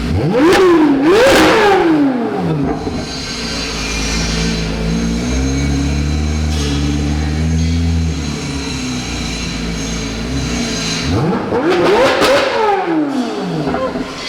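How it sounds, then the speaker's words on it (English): A Corvette C8 Z06 with an AWE exhaust revs loudly in sharp bursts at the start and end, with a steady lower idle rumble in between, close and without talk. "The AWE exhaust, like I said, sounds amazing."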